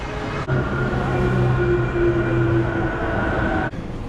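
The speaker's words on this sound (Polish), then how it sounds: "Chodzimy do metra, tak wygląda metro" A Medellín metro train stands at a busy station platform, its steady loud rumble and humming motor tones filling the space, with a low whine that holds for several seconds before a sudden drop.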